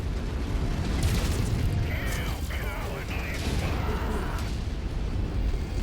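Enemy mech blowing apart in the video game Mechwarrior 5: Mercenaries, a dense, continuous roar of booming explosion and grinding mechanical clatter that stays loud for several seconds.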